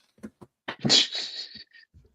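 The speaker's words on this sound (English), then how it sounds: "So that's Cat's chat. Just wants to talk." A cat vocalizes close up with several short chirps, then a longer, loud chattering meow and a couple of faint trailing chirps, heard alone indoors.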